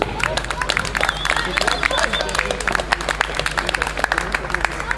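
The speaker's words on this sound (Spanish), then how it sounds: "Por favor, un aplauso para ellos." Clapping from the audience at a boys' doubles awards ceremony, sparse, uneven individual claps close by with background chatter and voices mixed in.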